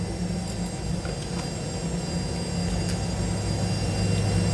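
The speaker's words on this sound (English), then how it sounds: "Private jet everywhere." Steady cabin roar of a private jet in flight, a broad, constant rushing hum with no talking.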